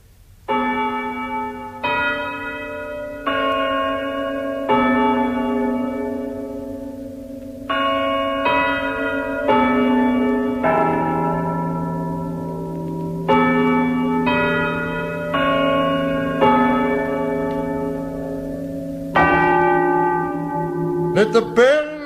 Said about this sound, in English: Let the bells give time.